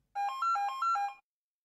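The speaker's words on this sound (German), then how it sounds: "Telefon für dich." A telephone rings with an electronic ringtone, a rapid alternating two-tone warble repeated in about four quick bursts, clear and close, then stopping into silence.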